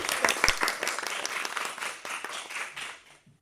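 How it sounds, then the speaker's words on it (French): A studio audience at a live kids' radio show final applauds three finalists, a burst of clapping that stays lively and then fades out over a few seconds. "Applaudissez bien fort Ambrine, Solène et Lucille, nos 3 finalistes."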